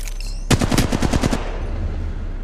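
A rapid burst of about eight automatic gunshots fires loud and close in Apex Legends Mobile, then cuts off into a fading tail with no talking.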